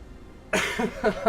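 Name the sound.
cough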